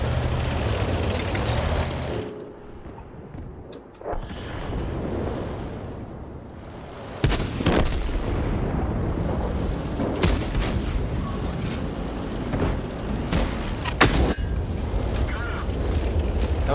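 Tank cannon shots in World of Tanks: a few sharp, loud blasts stand apart, each ringing into a rumble, with steady engine and battle noise filling the gaps and faint talk at times.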